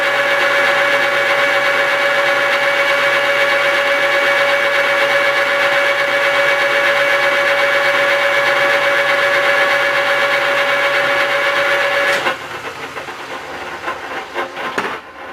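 A metal lathe takes a light facing skim with a turning tool, a loud steady whine with a strong tonal hum and hiss lasting about twelve seconds before the cut ends and the sound drops to lighter clatter.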